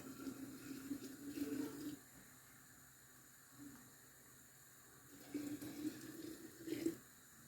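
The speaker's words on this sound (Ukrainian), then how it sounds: "І сюди заливаю у баночку." Boiled birch sap poured into a jar in a home kitchen, a faint trickle that comes in short bursts separated by quiet pauses.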